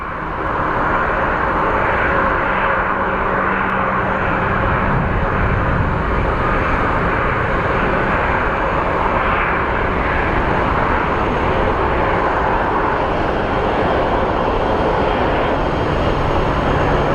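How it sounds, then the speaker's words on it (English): A Southwest Airlines airliner, arriving from Seattle, lands on the north runway at Phoenix Sky Harbor airport, a loud, continuous broadband engine roar and rumble that holds steady throughout with no talking. "So let's go take a look at our Southwest Airlines flight 1231 coming in from Seattle. That is the next flight that's landing on the north runway."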